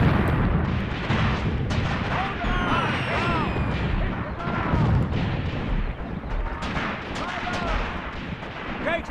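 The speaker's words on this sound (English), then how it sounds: "Love the sound of those guns, too." Tank guns firing in Tank Warfare: Tunisia 1943, repeated heavy booms and artillery thuds over a continuous battle rumble, with voices calling out throughout.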